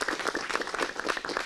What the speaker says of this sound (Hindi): तालियों से अपने आप का स्वागत किया जाए।